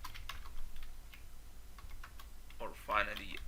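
Typing on a computer keyboard while entering Java applet code, soft scattered key clicks close by, with a denser burst of keystrokes near the end.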